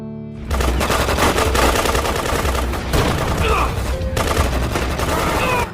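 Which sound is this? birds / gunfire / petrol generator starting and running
gunfire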